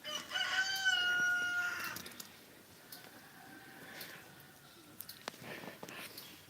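A rooster crows loudly and close by, one long drawn-out call lasting about two seconds, followed by quieter ambient sounds and a few faint clicks.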